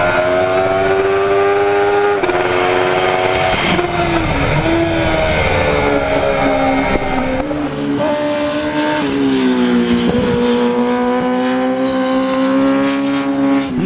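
A Kawasaki Ninja ZX-10R four-cylinder endurance race motorcycle screams at high revs, its pitch climbing through the gears with brief dips at each shift, loud and close throughout.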